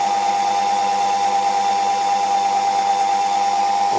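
A Unimat 250SL lathe runs while cutting a fuel fitting, giving a steady, close, even motor whine with a faint rhythmic chatter and no pauses.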